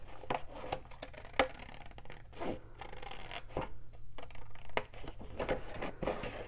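Scissors cutting scrapbook paper for a handmade junk journal pocket, a sequence of close, crisp snips and slicing scrapes with short pauses between cuts.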